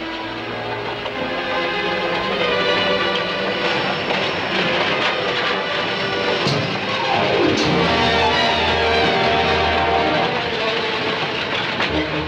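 A moving train clatters steadily along the rails throughout, with rhythmic clickety-clack, wheel screech and a whistle-like tone, in an old German-dubbed Western film; voices are faintly mixed in.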